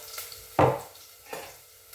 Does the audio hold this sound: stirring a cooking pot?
yes